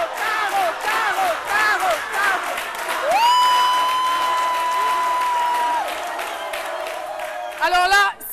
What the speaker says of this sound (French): je voudrais vraiment un triomphe d'applaudissements pour Caroline